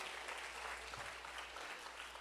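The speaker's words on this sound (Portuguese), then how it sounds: "Aplaude ele, aplaude." A church congregation claps together in a sustained, even wash of applause that sounds faint and somewhat distant throughout.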